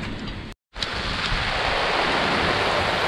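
Rain falls around a sailboat at anchor off Sardinia, a loud, steady broadband hiss and patter that cuts out briefly and then resumes just as strongly.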